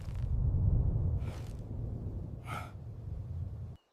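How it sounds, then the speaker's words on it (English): A gasp of fear in a narrated children's fairy tale comes as a short, sharp intake of breath over a low rumbling music bed, following a softer breathy sound, before the background cuts off. "Snow White gasped with fear"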